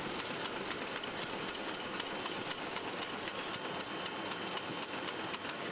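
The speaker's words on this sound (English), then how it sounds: "Each feeder feeds 5 booklets in from either side of the line to ensure the evenness of the size of the package." Booklet feeders on a print-room packaging line run with a steady, dense mechanical clatter and hum, loud and continuous without pause.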